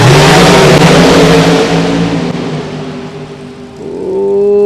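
An Oakley Motorsports powered hot rod drag racing car launches with a loud, harsh engine blast that fades as it pulls away down the strip, then its tone climbs again near the end.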